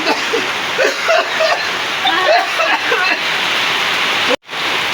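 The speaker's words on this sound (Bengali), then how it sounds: "দেখেন কি পরিমাণ বৃষ্টি হচ্ছে" Heavy rain pours down in a dense, loud hiss, steady throughout, with voices talking over it and a brief cut-out near the end.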